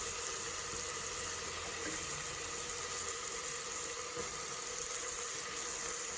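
Masala spices and salt fry in a pan for soya chunks kurma, giving a steady, even sizzling hiss that stays constant throughout without talk.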